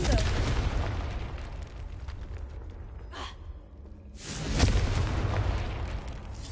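A Confringo blasting spell explodes in Hogwarts Legacy, a booming rumble that dips briefly and then swells into a louder, sustained blast with a breathy whoosh.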